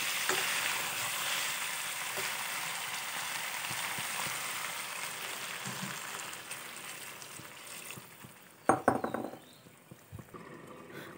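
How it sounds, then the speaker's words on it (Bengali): Jackfruit curry masala sizzles loudly in hot oil with steady frying hiss, then a burst of splashing and bubbling as broth is poured in, after which the sizzle drops away; no talking. "এখন ঝোল দিয়ে দেব।"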